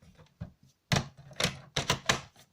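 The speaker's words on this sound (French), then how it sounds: "je fais un premier pli ici à 6 cm" Cardboard being folded and creased by hand, about 6 cm in from each edge of a 19 by 29 cm rectangle, giving several sharp close crackling presses and snaps in quick, uneven succession, with no talk.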